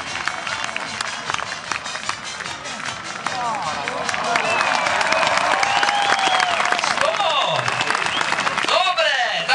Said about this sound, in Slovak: Potlesk na mieste, to je naozaj pravda